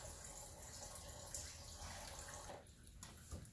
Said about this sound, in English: Just let it drip all the way out.